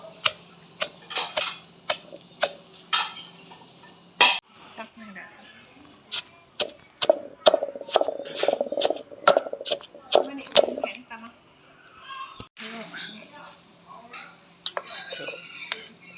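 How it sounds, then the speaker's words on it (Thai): Rhythmic pestle strikes pound chili, shallots and garlic in a mortar for an Isan dish with giant June beetles, a steady series of sharp close knocks with a few pauses, while someone talks over them. "เอาพริกลงครับที่หัวหอม กระเทียมตำจนละเอียดนะครับ"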